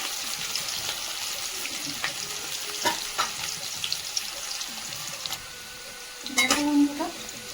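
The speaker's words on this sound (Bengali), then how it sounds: "পেঁয়াজটাকে ভালো করে ভেজে নেব" Onions frying with bay leaves in hot oil for a rohu fish kalia, a soft, steady sizzle broken by scattered clinks and stirring scrapes, with a brief louder clatter near the end.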